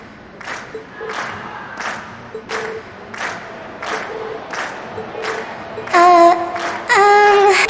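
Crowd cheering at a concert in the video game Trails of Cold Steel, with rhythmic thumping beats and a swell of loud, bright cheering in the final seconds.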